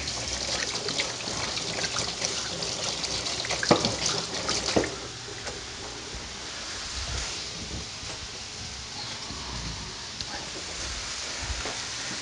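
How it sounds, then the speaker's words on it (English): Water runs from a tap and splashes as hands are rubbed beneath it, the flow busier at first then settling into a quieter steady trickle. "Quick wash of the hands again."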